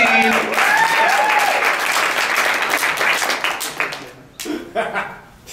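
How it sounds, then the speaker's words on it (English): A theatre audience claps for a scene in a senior send-off show, dense applause loud at first, then thinning into scattered claps that fade out, with some voices mixed in. "Whenever you're ready, clap it up for the second scene."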